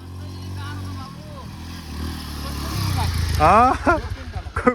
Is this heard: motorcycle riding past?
yes